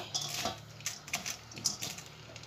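Utensils clink and scrape against a dish while chicken filling for a Moroccan pastilla is mixed, a quick series of close metallic taps and scrapes with no talking.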